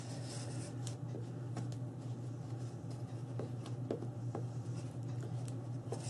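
A bone folder burnishes a paper fold on a crafted box and mini album, making faint, soft rubbing and scraping strokes over a low background hum, quiet and close.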